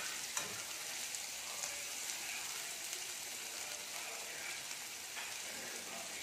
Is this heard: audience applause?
no